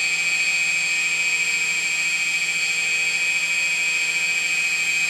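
An RC plane's electric motor running steadily at half throttle, a sustained high-pitched whine with strong steady tones, close and loud with no talking.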